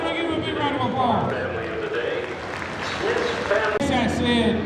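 Crowd applause rolls steadily through the grandstand at a truck and tractor pull at the NC State Fair in Raleigh, a dense, continuous clapping wash with crowd noise mixed in.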